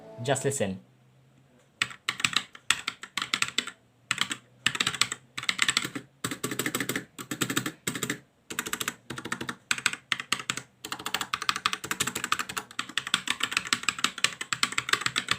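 Typing on the mechanical switches of a Fantech Maxpower MK853 keyboard, bursts of rapid close clacky keystrokes in uneven runs with short pauses, loud and alone after a brief quiet start.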